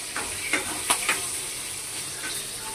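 Garlic cloves dropped into hot oil for a mint chutney, sizzling steadily with a few sharper crackles and pops early on, close up and unaccompanied by speech.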